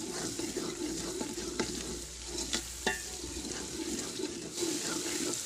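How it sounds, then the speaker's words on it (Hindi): Red chili powder and turmeric roasting in oil in a pan for potato pea rice, a soft steady sizzle with occasional spoon scrapes and clinks, fairly faint throughout. "सुरख मिर्च और हल्दी को अच्छी तरह भून लेंगे।"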